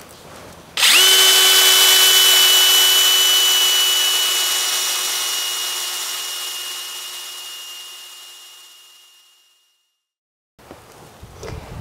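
A power drill boring a tap hole into a sugar maple trunk, one continuous loud whine that starts abruptly, holds steady, then slowly falls in level before cutting out, followed by a short quiet gap and faint handling noise.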